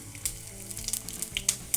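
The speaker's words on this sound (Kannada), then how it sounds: "ಇವಾಗ ಎಣ್ಣೆ ಬಿಸಿಯಾಗಿದೆ. ಅದಕ್ಕೆ ನಾನು ಸ್ವಲ್ಪ ಜೀರಿಗೆ ಹಾಕ್ಕೊಳ್ತಾ ಇದ್ದೇನೆ." Cumin seeds dropped into hot oil for a North Karnataka pundi palya tempering sizzle and crackle with sharp, irregular pops, close and fairly quiet, with no talk.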